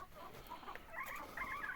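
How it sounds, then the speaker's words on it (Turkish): An Indian rooster clucks in short, low throaty bursts, close by and fairly soft, with light outdoor background noise. "Bu çilli biraz tehlikeli bir horoz."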